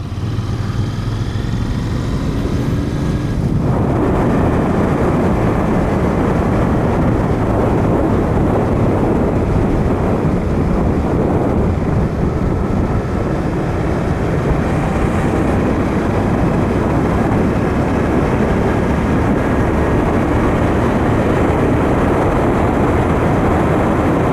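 A Royal Enfield Interceptor 650 engine runs while the motorcycle is ridden on tarmac, a loud, continuous low drone mixed with wind rush that holds steady throughout and changes slightly in tone early on.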